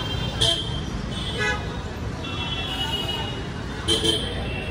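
Busy, crowded Mumbai road noise during Ganesh festival preparations, with a steady rumble of vehicles and a few short horn toots popping out at intervals.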